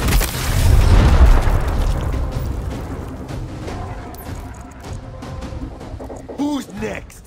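A frag grenade detonates in the video game Gears Tactics with a loud, deep boom and a long rumbling tail that fades over several seconds, followed by scattered debris clatter and a brief voice near the end.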